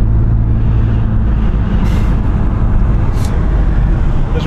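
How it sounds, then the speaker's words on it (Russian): A Mercedes V12 sedan with about 400 horsepower, cruising near 60 km/h as the throttle is pressed, fills the cabin with a loud, steady engine and road roar that holds without a break. "И тут я нажимаю газ."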